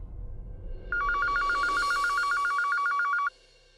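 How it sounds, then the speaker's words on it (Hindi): A landline telephone rings indoors: one steady electronic trill lasts about two seconds over a low background murmur, then stops abruptly. "आप ना लैंडलाइन पे फोन करो, अगर कोई भी उठाए आप बोल देना कि प्रज्ञा से बात करनी है"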